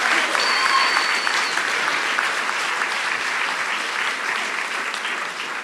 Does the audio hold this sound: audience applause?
yes